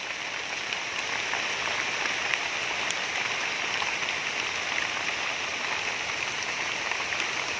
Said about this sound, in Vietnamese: Mưa lớn quá chừng lớn luôn á mọi người.